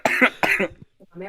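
A coughing fit breaks out mid-laugh, a quick run of harsh, close coughs in two loud bursts, then a short pause and a softer throaty catch.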